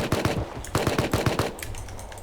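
Rapid automatic gunfire in the survival video game Rust, two quick bursts of loud, close shots followed by a brief pause and softer trailing sounds.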